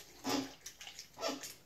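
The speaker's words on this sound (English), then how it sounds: "I'm going to lightly spray this with some water." A spray bottle mists water onto hair in short hissing bursts, two main sprays with a few lighter puffs between, close and fairly soft.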